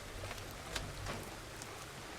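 Rain falls in the farming game Farmer's Dynasty as a steady, hissing patter with a few faint drop-like ticks, even and continuous over a low background, with no talking.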